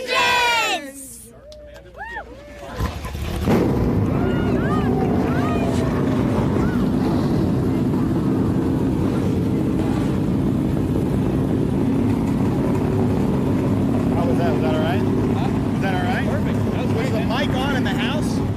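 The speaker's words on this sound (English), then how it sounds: "Driver, start your engines!" Race car engines start up and settle into a loud, sustained layered rumble and drone at Road America before a TA/XGT/SGT/GT feature race, following an announcer's voice over a PA and crowd noise.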